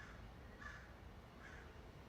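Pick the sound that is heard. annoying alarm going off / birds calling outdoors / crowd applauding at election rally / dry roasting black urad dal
birds calling outdoors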